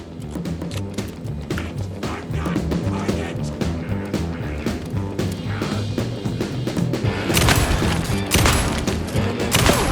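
Rapid gunfire in the survival horror game Alan Wake 2, Night Springs episode, loud bursts over a dense layer of music and effects, building heavier toward the end.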